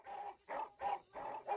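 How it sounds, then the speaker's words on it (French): Guard dogs barking outside at midnight, a run of four or five rough, evenly spaced barks at a steady moderate distance, with no talk over them. "Mes chiens de garde sont dehors et lâchés."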